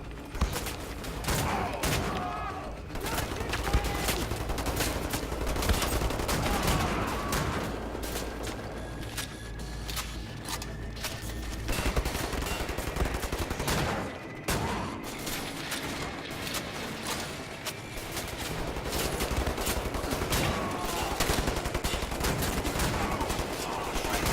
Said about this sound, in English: Lay down, suppressing fire.